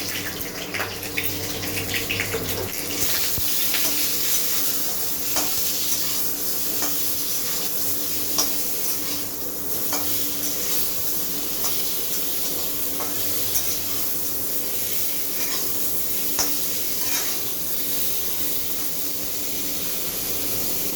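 Potato pieces frying in hot oil in a pan, a steady close sizzle running throughout with occasional small pops and spatters.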